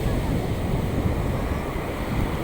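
High sea waves break on a beach in a continuous loud wash of surf, with wind buffeting the microphone and no distinct individual crashes.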